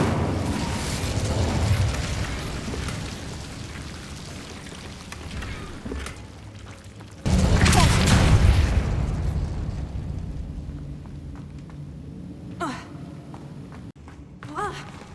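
A burst of fire from the Incendio spell erupts in Hogwarts Legacy, a loud broadband whoosh-blast that swells suddenly and roars for a few seconds before trailing into lower rumbling ambience.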